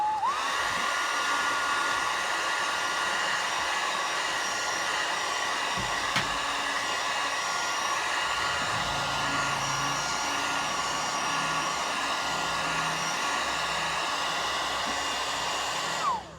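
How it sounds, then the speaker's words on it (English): A hair dryer blows steadily on a freshly painted watercolor, its whining motor hum loud and close, running unbroken for about sixteen seconds before cutting off at the end. "I'm going to use a hair dryer to dry this"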